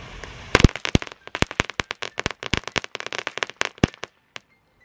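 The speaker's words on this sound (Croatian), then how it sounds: "Pravo fina, lagana petardica za F1 razred, fino malo pucketa i tako." Mini Commando firecrackers, light F1-class pyrotechnics, crackle in a dense run of sharp pops for about four seconds, close and loud, before trailing off to quiet.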